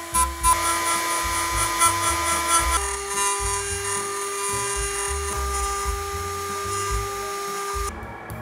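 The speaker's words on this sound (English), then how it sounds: "I bolted it to the machine and had a go at grinding the taper myself." A taper being ground on a home-built machine in a home shop: a loud, continuous high-pitched grinding whine that holds steady for the whole stretch, shifting pitch once partway through, with no talk.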